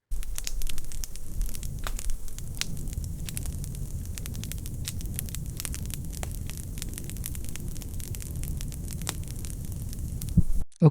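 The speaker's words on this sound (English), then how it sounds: "Let's look at this prompt, fire crackling." Steady AI-generated fire crackling from Stable Audio Open Small, a continuous low roar dotted with frequent sharp pops and snaps at an even level throughout, with no voices.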